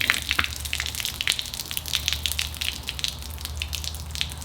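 Water gushing and splashing out of a part on a Cummins diesel truck, a bright spattering flow with irregular drips and splashes, close and steady for several seconds.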